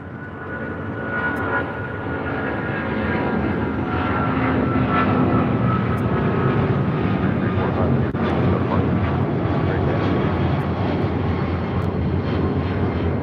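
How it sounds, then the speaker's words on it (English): An American Airlines Boeing 777-200ER in oneworld livery rolls down runway 25 right at LAX, its jet engines rising into a loud, sustained roar with a faint whine. "777-200ER, now rolling down 25 right"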